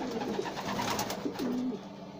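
Pigeons in a loft coo softly in a few low, rolling calls over steady background noise, close by but quiet.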